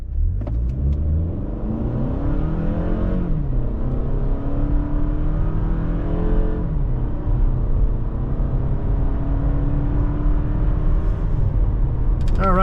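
2023 Toyota Camry SE Nightshade AWD accelerating hard from a standstill to 60 mph, engine revving up in rising sweeps through several gear shifts, loud and close with road rumble throughout.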